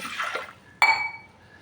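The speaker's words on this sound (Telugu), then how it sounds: "ఈ గ్లాసు కందిపప్పుని కుక్కర్లో వేసి గ్లాస్ వాటర్ వేసి కడుక్కొని" Water splashes into a pressure cooker holding a glass of toor dal for washing, a soft pour followed by a sharp, brighter splash that rings briefly and fades, close and alone.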